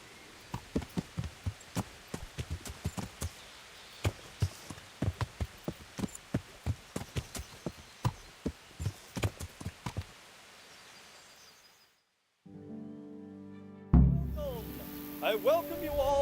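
Hooves clop at a steady trot in the video game Kingdom Come: Deliverance, a regular run of close, crisp thuds that stops after about ten seconds. A short silence follows, then other game sounds take over.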